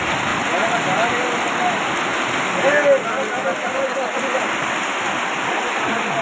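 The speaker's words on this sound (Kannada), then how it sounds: "ಭಾರಿ ಮಳೆ" Heavy rain pours down steadily, a dense, continuous roaring hiss of water falling on surfaces, close and unbroken throughout with no voices.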